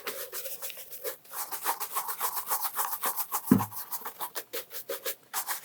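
Bespoke Canons leather shoes being buffed with an oversized, long-bristled shoemaker brush: steady rapid back-and-forth rasping strokes, close and fairly soft, with a brief knock partway through and no talking.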